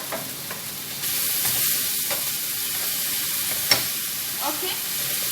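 Meat fries in a pan with a constant close sizzle, broken by occasional stirring clicks and small pops, and no speech over it.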